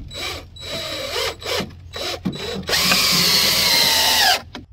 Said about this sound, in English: Now I'm gonna screw this board down.